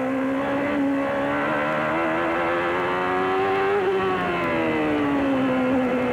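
A 1993 Indy race car engine drones steadily at high pitch in the rain at Portland, easing and rising gently in tone as it holds a smooth, restrained throttle.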